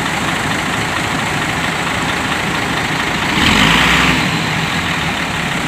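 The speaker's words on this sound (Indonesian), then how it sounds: "Wih, digas, suara nalpotnya terasa" STJ Turquoise executive-class coach bus engine running steadily with a low exhaust rumble, swelling briefly louder in a short rev midway before settling back to a steady idle-like drone.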